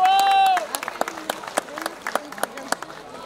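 Wedding guests clap at a ceremony, scattered sharp claps ringing out irregularly after a brief sustained musical tone at the start, fairly close, with voices faintly underneath.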